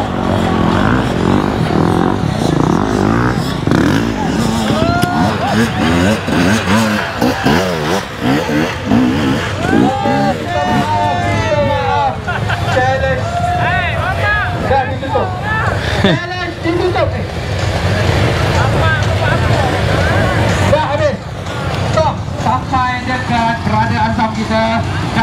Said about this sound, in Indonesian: Motor di belakang ni.